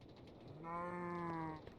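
A single drawn-out, harmonic moo from a cow in Minecraft, about a second long, moderately loud over steady low background noise.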